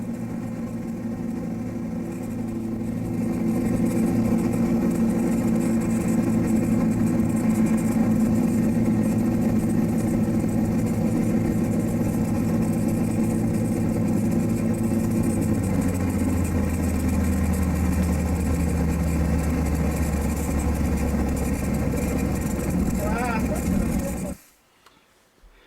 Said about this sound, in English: And so we arrive in our de Havilland Twin Otter on a rather bumpy